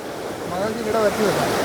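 Flooded river water rushes loudly and continuously in a broad, forceful roar with waves while a voice speaks over it.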